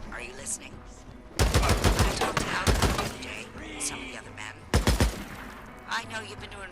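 Gunfire in the Days Gone video game, with dense bursts of rapid shots crashing in loud and close, a lull, then another sharp volley, all over a low game ambience.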